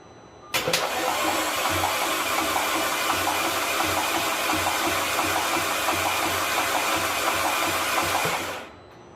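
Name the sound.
Audi 2.0T engine cranking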